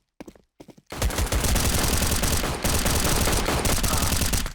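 Rapid automatic gunfire using 2017 CSGO weapon sounds in a PSP homebrew first-person shooter: a few short clicks or shots, then a dense, loud, unbroken burst of fire lasting several seconds.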